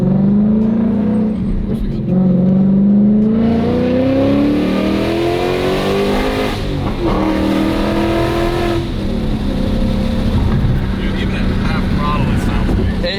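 A Ford Mustang Mach 1 fitted with long tube headers revs hard and close, its loud exhaust note climbing steadily in pitch, then dropping and rising again.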